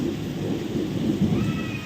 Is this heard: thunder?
yes